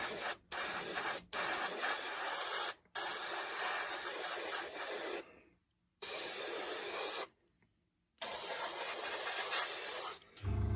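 An airbrush sprays paint onto a model railway wagon in loud steady hissing bursts, several short ones then two longer passes, separated by brief silent pauses.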